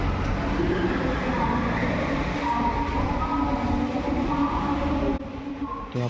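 A loud, continuous rumble of a train moving through Thane railway station, with rolling wheel noise and faint voices in the background, easing slightly at the end.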